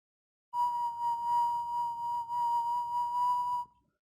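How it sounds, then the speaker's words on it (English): A pure sine wave test tone from a tone generator, a single steady clean beep held for about three seconds, loud and alone after a brief silence. "So let me try and give it a pure sine wave."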